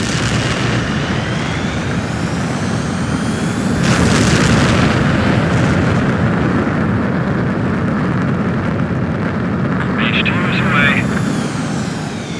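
Jet fighter launching in the Ace Combat 7 flight game, a loud continuous engine roar that swells around the middle with a booming surge, as radio-style voices speak over it.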